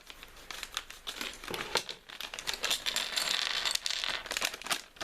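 Plastic and cardboard packaging of a Playmobil pilot figure is crinkled, torn and rustled up close in quick irregular bursts, with sharp crackles and snaps scattered over a few seconds.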